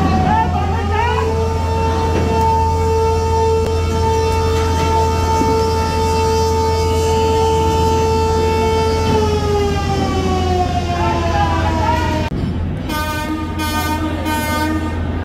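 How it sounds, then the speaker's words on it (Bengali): The M. Khan-7 passenger launch, a Barisal–Dhaka river ferry, sounds a loud, sustained whistle for several seconds that sags slightly in pitch before stopping, followed by short repeated horn blasts over a steady engine hum. "এম খান 7-এর হুইসেল শুনেন।"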